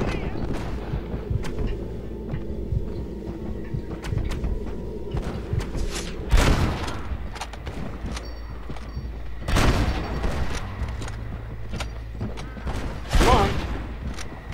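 Gunfire in the Red Dead Redemption video game: three loud, booming shots spaced several seconds apart, each with a rolling tail, over a rumbling background with quieter clatter and mechanical noises in between.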